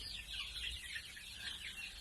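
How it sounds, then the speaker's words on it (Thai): One-month-old domestic chickens cluck and peep softly and continuously, close by in a farm pen. "อันนี้ไก่ นะครับ"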